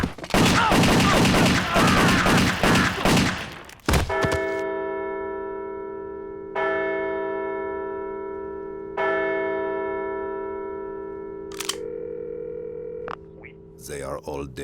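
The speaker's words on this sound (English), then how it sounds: "I'm gonna shoot you!" Cartoon gunshots ring out in a loud, rapid volley for several seconds, then give way to sustained ringing, bell-like tones that fade between later sharp hits.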